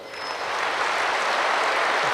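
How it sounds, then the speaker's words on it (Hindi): Audience at a spiritual gathering clapping for themselves, a dense burst of applause swelling quickly and holding loud and steady. "जोर से अपने लिए ताली बजाइए।"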